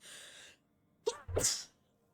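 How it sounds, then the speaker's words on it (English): A single sharp sneeze in two bursts, a quick intake then a loud explosive release, close by, after a brief soft hiss. "Sneeze came out of nowhere."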